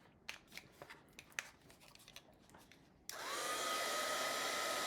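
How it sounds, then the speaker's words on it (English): A heat tool switches on partway through, its steady loud blowing roar of hot air drying white paint on a mixed media piece, following a stretch of quiet scattered clicks and handling sounds. "we're going to hit it with the heating tool"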